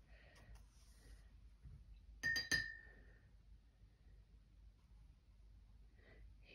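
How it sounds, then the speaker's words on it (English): A watercolor brush rinsed in a glass of water, with a brief cluster of bright clinks and taps against the glass amid quiet, faint surroundings. "I'm gonna rinse my brush off completely"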